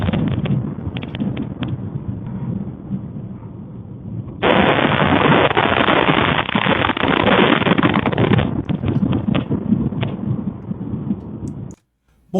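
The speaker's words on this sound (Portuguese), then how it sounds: "Bom, tem mais explosões aqui," Explosions from a HIMARS strike on a hotel in Alchevsk, Luhansk region, heard as a continuous loud roar of blasts and rumble that swells sharply midway and cuts off abruptly near the end, with no talk.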